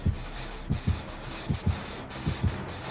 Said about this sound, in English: I think he knows where it is already, because I can hear the heartbeat.